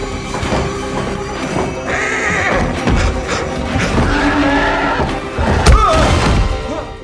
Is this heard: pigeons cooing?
no